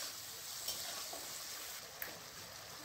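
Tomato and onion cooking down with ginger in a pan, a soft steady sizzle with faint stirring scrapes and a couple of light clinks, quiet and close.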